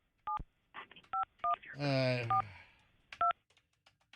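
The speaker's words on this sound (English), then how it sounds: "I dial the 1." Telephone keypad dialing tones ring out as a series of short, crisp two-tone beeps, spaced unevenly, loud and close, with someone talking briefly in the middle between presses.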